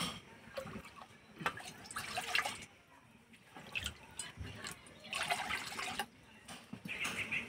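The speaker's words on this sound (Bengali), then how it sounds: "কড়াই দেবো এই বাটি 2 বাটি জল" Water poured from a bowl into a wok on a lit stove while making rice-flour kheer pitha, splashing and trickling in a few separate pours with quiet pauses between, close by and moderately soft.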